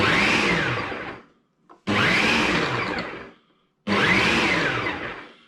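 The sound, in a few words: Ninja food processor chopping mushrooms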